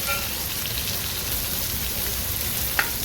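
Prawns fry in oil with a dense, even crackling hiss that stays steady throughout, broken only by a single brief tap near the end.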